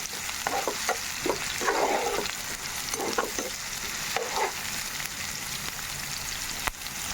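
Onions sizzle steadily in a pan as a spoon stirs them, the close, continuous frying hiss broken by short scraping strokes while methi aloo masala curry is being cooked.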